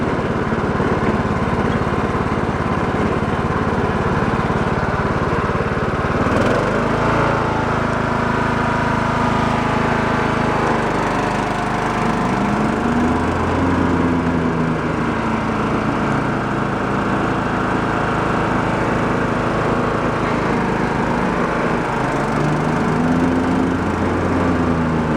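A Cub Cadet lawn tractor with a bad transmission runs steadily, its small engine droning loud and close without pause while the pitch shifts slightly now and then.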